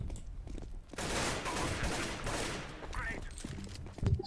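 A CS:GO match fills with heavy gunfire, sustained bursts of automatic shots dominating the middle stretch, then thinning out, with a sharp close shot at the end and some voices mixed in.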